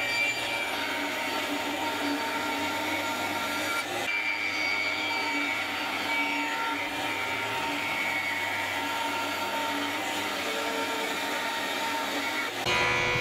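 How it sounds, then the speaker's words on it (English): A bandsaw cuts wood along a marked line, whirring and whining continuously at close range; the pitch shifts slightly as the blade feeds through the board, with a brief change near the end. "on the bandsaw, I'm going to cut along that line"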